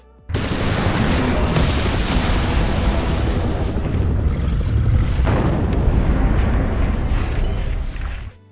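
Layered explosion sound effects for a movie scene roar as one long, loud, dense boom and rumble that sustains for about eight seconds before cutting off abruptly.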